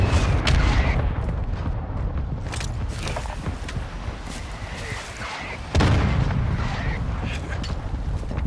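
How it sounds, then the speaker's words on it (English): Cruise missile strike in Call of Duty: Modern Warfare 2, heard as a dense, rumbling wash of distant explosions and battle noise, with a sharp heavy blast around the middle and continuous low booming throughout. "Friendly cruise missile approaching target"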